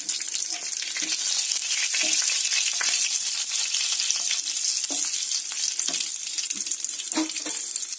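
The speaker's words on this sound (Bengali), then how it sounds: "এরপরে 3খানা যে কাঁচা লঙ্কা নিয়েছিলাম, কাঁচা লঙ্কাগুলো দিয়ে দিলাম।" Green chillies fry in hot oil in a pan for a mixed vegetable fry, making a loud, continuous close sizzle with scattered stirring clicks and pops, and no voices.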